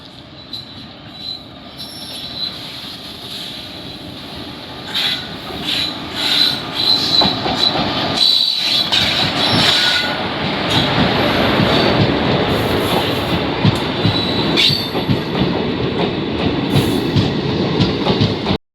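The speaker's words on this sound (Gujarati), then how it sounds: "ટ્રેન આવી ગઈ છે અને આગળ તમને દેખાડું." A train pulls into Lusada railway station with loud, sustained wheel squeal and rolling, clattering rail noise that builds and stays close throughout, with no talking.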